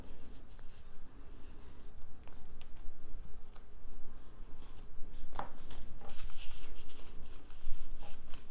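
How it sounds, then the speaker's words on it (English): A bag of bone beads is cut open up close, with soft crinkly snips and scratchy plastic rustling over a steady hiss and one sharper click midway. No one speaks. "So I'll cut open my bone beads."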